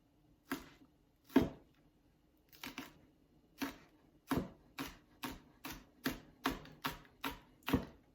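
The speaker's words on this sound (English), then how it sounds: "Cutting thin slices of green onion isn't good" A knife slices thin rounds of green onion on a cutting board, giving a series of crisp, close taps that start sparse and then settle into a steady, quickening rhythm.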